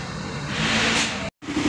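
A Rusi Raider 150 motorcycle engine, its carburetor just repaired, runs and revs close by in a steady broadband roar that swells slightly, cuts out briefly near the end, then returns.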